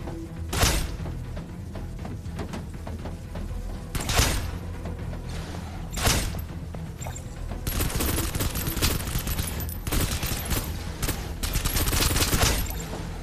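Bursts of automatic gunfire in the shooter game Snowbreak: Containment Zone, with sharp separate shots early that give way to dense, sustained rattling fire toward the end.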